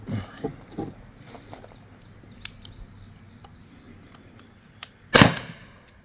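A Byrna LE launcher fires a single sharp, loud shot near the end, preceded by faint clicks and handling noises outdoors with no talking.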